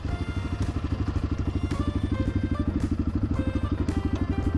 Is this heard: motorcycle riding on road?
yes